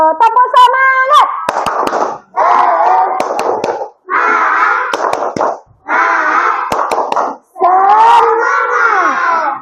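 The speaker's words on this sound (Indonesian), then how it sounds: "Untuk itu, tepuk semangat." A class of schoolchildren does a tepuk semangat spirit clap, loudly chanting in rhythmic bursts punctuated by sharp, synchronized claps, with brief pauses between each shouted phrase.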